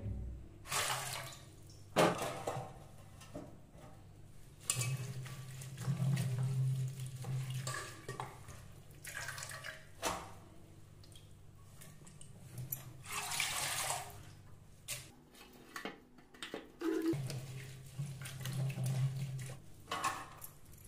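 Fenugreek leaves are rinsed in two changes of water in a home kitchen, with soft sloshing, splashing and running water coming in uneven bursts. No voices are heard.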